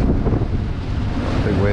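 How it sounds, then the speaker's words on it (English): Ocean swell breaking against a Chris White Explorer 44 trimaran sailing upwind off the California coast, a loud close wash of water smothered in heavy wind buffeting on the microphone. "a big wave"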